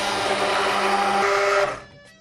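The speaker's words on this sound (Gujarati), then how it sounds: "તો આપણે સાદું પાણી નાખ્યું, હવે એને બ્લેન્ડ કરી દઈશું" An electric blender whirs steadily, blending soaked dal with water into a smooth batter, a loud close motor drone that shifts pitch once and then winds down and stops.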